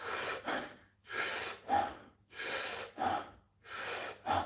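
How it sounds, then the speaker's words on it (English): A person demonstrates rapid mouth breathing, four quick loud inhale-exhale cycles of rushing, gasping air, close to the mic with no speech, like hyperventilating. "Most people breathe like this."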